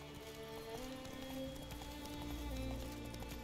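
Horse hooves gallop in The Witcher 3, a steady rhythmic clip-clop of a running horse over game music and ambience, fairly faint throughout.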